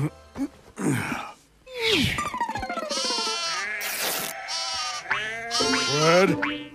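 Cartoon sheep in Coconut Fred's Fruit Salad Island bleat in a rapid, wobbling series of loud, warbly cries mixed with springy comic sound effects, close and continuous.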